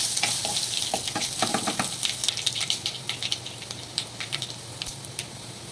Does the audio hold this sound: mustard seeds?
yes